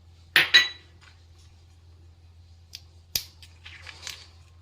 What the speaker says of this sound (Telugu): ఇలా పిస్తా అన్నిటిని షెల్స్ తీసి పెట్టుకోవాలి.